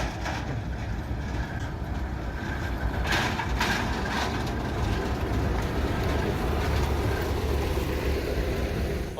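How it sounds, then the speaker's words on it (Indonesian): A diesel locomotive on a sugar cane railway at the PG Semboro mill rolls past as a steady, loud rumble of engine and rolling stock, heard close by and continuing throughout. "Dan sekarang kita tunggu lokomotif lewat jalur ini, teman-teman."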